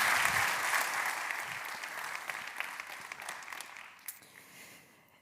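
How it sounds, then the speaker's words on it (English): A crowd applauds a speaker walking onstage at a climate talk, loud sustained clapping that gradually fades and thins toward the end. "Let's give her a big round of applause, everyone."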